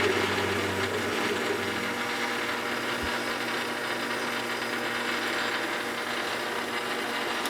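A metal lathe spindle turns at about 400 RPM while drilling with cutting oil, giving a steady mechanical whir and hum with a faint grinding edge and one brief knock, close and continuous.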